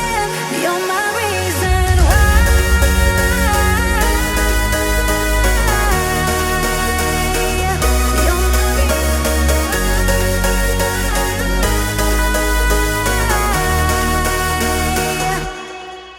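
Bright layered progressive house synth leads play a busy electronic melody over deep sustained bass, dense and loud throughout before cutting off at the end.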